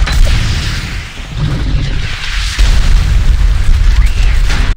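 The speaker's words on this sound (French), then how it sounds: "il n'y a aucune chance que qui que ce soit ait survécu à une explosion de lance-roquettes comme ça dans un wagon fermé" A rocket launcher blast erupts inside a closed train car in a film scene, a loud deep boom with sustained rumbling roar that jumps louder midway and then cuts off abruptly.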